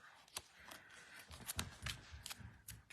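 Dimensional adhesive foam tape being torn in short, quick rips and crinkles, faint and close, in a series of brief scratchy bursts at a quiet craft table.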